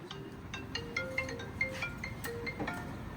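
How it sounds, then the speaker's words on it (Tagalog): A phone ringtone plays a bright repeating melody of short electronic tones, fairly loud and steady against a low background hum. "Yo, Che, pakipatay muna yung ringtone."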